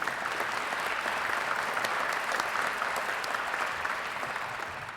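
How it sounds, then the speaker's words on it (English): Audience applause at a hall of fame induction ceremony, a dense, steady wash of clapping from a large crowd that holds for the whole stretch and eases off slightly at the end. "If we give them a round of applause."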